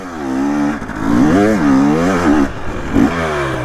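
A two-stroke dirt bike engine, a Yamaha YZ250 or KTM 250 XC, revving loud and close on a hillclimb, its pitch rising and falling through several throttle blips without pause.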